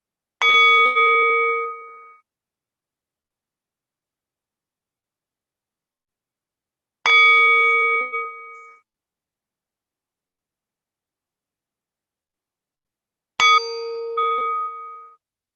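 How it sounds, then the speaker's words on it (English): A meditation gong is struck three times at even, widely spaced intervals, each bright metallic ring decaying over a couple of seconds into silence. "Let's first listen to the meditation gong."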